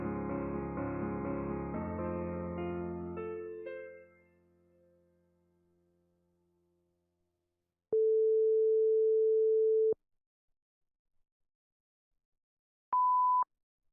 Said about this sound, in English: We'll have a long tone at 10 seconds before, followed by a short one at 5 seconds.